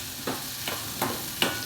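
Spices frying in hot oil in a pan for masala okra, with soft sizzling and a few light stirring scrapes at a steady rhythm, close and fairly quiet, with no talking.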